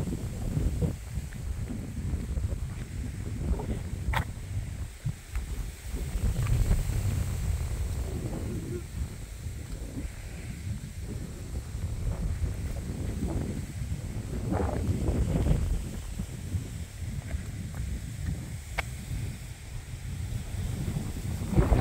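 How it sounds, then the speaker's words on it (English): Strong wind buffets the microphone on a hilltop at Rock Dunder, above water in the distance, making a continuous low roar that swells and eases in gusts, with faint rustling over about twenty seconds. "It's so windy right now that there isn't a single mosquito, deer fly, or anything."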